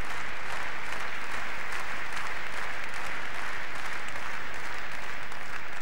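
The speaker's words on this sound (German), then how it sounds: "Rhythmisches Klatschen der Besucher in Leipzig." Tennis spectators at a 1996 semifinal in Leipzig clap in a rhythm. The dense, even applause from a large crowd carries on for the whole stretch, with no talk over it.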